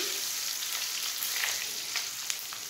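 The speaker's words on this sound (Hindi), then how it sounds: "अब हम अपने जो मेवाजात हैं वो डाल देते हैं। थोड़ा सा इसको फ्राई करते हैं" Dry fruits and nuts frying in a pan for sweet zarda rice, giving a steady bright sizzle with a few light stirring taps close by and no talk.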